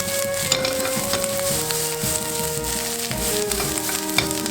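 Japanese fried rice with vegetables and green onion stir-fried in a pan: a continuous loud sizzle with clattering utensil scrapes, plus steady background music tones running throughout.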